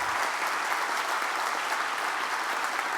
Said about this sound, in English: I'd love to get a quick applause for those guys